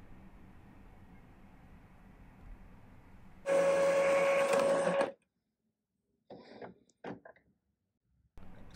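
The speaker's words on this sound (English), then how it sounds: "Let's try printing a test page." An Epson EcoTank inkjet printer printing a test page whirs loudly for a second and a half with a steady mechanical tone, then gives a few short clicks and feed noises after a pause.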